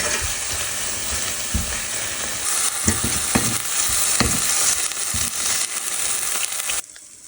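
Liquid batter hits a hot pan over a gas flame and fries, a loud continuous sizzle with crackling pops and a few scraping stirs, stopping abruptly near the end.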